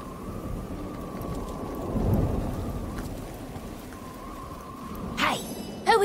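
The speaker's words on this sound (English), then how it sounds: "You must be mad to venture out in this storm" Thunderstorm with rain in a video game: steady rain hiss with a low thunder rumble swelling midway, a faint constant tone running through, and a sharp burst of sound near the end.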